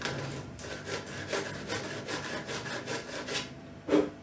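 Sandpaper rubbed back and forth over a wooden mandolin part gives a steady run of rasping strokes, each swelling and fading about twice a second, close by and moderately loud, ending in one sharper scrape.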